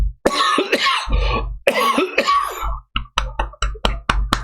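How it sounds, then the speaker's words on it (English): A run of sharp, harsh coughs comes in bursts, the later ones short and rapid, close to the listener. "I've got a cough. I've got a cough."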